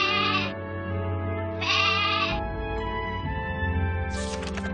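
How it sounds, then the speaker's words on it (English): Sheep bleating in a children's alphabet lesson: three separate wavering bleats, loud and close, over a steady musical background with no talk. "A sheep says, ba,"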